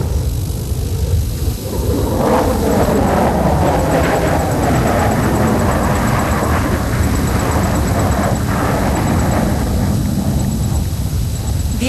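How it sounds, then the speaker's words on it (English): A Sukhoi Su-30 MKI fighter jet flies along the grandstand at an air force display, a loud, sustained roaring rumble of jet engines that holds steady and fills the whole stretch without a break. "The aircraft will now fly along the grandstand from your right to carry out a"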